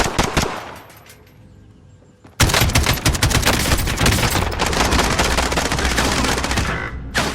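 Automatic gunfire in the Warzone video game: a brief burst, a quieter lull, then a long stretch of loud, dense rapid-fire shots that continues almost to the end.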